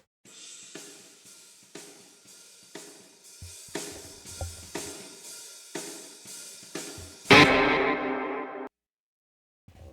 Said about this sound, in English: The cymbal reverb.